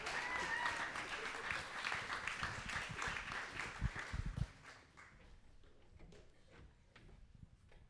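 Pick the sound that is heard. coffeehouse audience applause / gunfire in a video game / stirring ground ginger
coffeehouse audience applause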